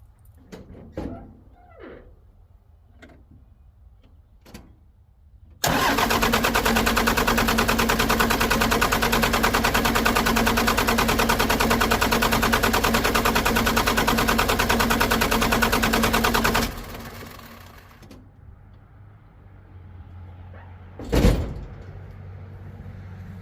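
A Cummins 12 valve diesel cranks over in one long, loud, steady burst of about eleven seconds and fails to start, with quieter clicks and knocks before it and a single sharp thud afterward.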